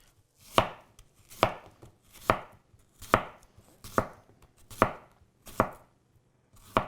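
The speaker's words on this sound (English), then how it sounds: "So I'm going to cut it in half and just slice it." A sharp Mikarto Damascus chef's knife slicing a vegetable into quarter moons on a cutting board, eight crisp, evenly spaced chops close by with quiet gaps between them.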